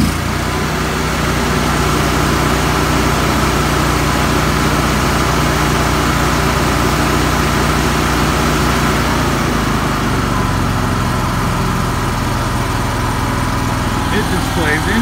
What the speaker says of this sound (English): compressor's sitting there running away